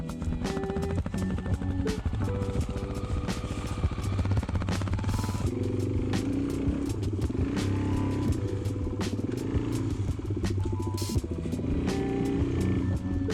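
Honda XR650 dirt bike revving and clattering as it climbs out of a muddy puddle on a wet forest trail, a steady close engine drone with bursts of throttle and splashing.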